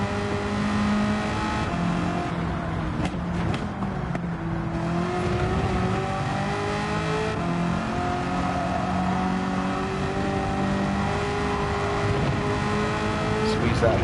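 A race car engine in Gran Turismo 7 revs and pulls through the gears in a sustained, droning climb, with tone shifts at each change.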